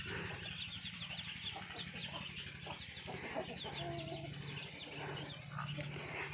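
Black chickens cluck steadily in a farm pen, a busy overlapping chatter of several birds close by with no talking.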